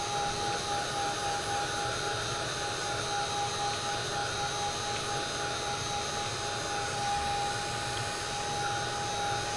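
A heat gun drying paint on a snowman picture-frame craft blows with a steady, even whooshing hum and a thin constant whine, unbroken throughout at moderate level.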